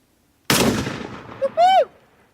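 A single sharp gunshot from a gun firing a blank bursts out of silence, followed by a quick decaying echo and a brief high-pitched squeal.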